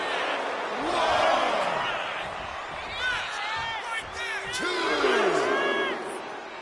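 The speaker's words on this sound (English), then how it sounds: "And Zelina is revving this crowd up." A wrestling arena crowd in WWE 2K26 cheers and roars in swelling waves, with whistles and shouts rising above it and commentary spoken over the top.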